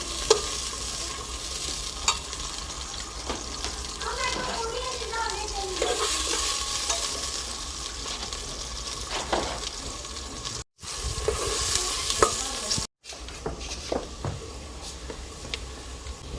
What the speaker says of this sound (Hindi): हम इसमें प्याज डालते हैं।